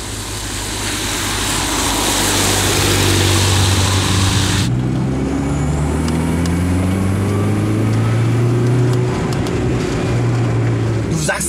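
A Hyundai race car engine drones loud and close, its revs sweeping upward in several rising passes after a broadband rush cuts off, with a voice speaking over it.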